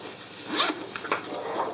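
A zipper on the lined inner compartment of a laptop bag is pulled shut in one quick, close, rasping run with a short catch partway, no voices over it.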